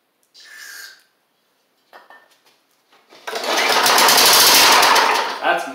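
Classic Snapper Hi-Vac push mower with a Tecumseh engine, which has just had its carburetor swapped. A few brief close sounds come first, then the engine fires and runs loud and steady with a buzzing, rattling roar for several seconds.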